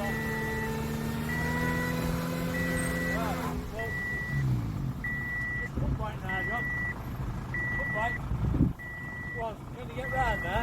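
A Manitou telehandler reverses with a steady series of evenly spaced electronic beeps over a low engine rumble, while people talk nearby.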